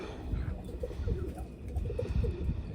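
Taiwan pigeons coo steadily in low, soft repeated calls, several birds overlapping close by in a continuous murmuring chorus with no talking.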